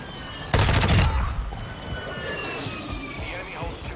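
Gunfire in Call of Duty MW2 erupts in a loud, rapid burst of shots lasting about half a second, then fades into a rumbling battlefield background with aircraft noise.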